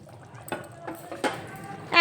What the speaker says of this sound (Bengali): মাছগুলো দিয়ে হালকা একটু নেড়ে চেড়ে নেব